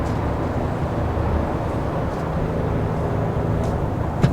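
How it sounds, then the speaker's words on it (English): Steady low drone of a 2023 Nissan Frontier Pro-4X engine while towing a trailer on the interstate, downshifting through gears with a continuous rumbling hum and faint road noise, no voice. "I'm gonna go ahead and start downshifting them in 6th gear, 5th gear, 4th gear."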